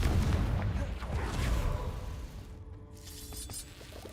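A deep, booming blast from the Confringo spell in Hogwarts Legacy. It rumbles loudly at the start, then fades and is followed by smaller pops.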